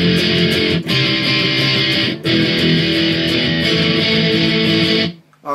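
Loud, distorted, palm-muted electric guitar power chords from a song churn steadily, with two brief cuts between phrases and an abrupt stop at the end.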